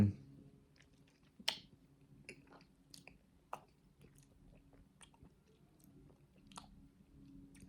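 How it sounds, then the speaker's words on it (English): Quiet, close chewing of a Hershey's chocolate bar, with soft crunchy bites and mouth clicks scattered over a low background hum, no talking. "This is my first time eating Hershey's. So yeah, I'm gonna eat it."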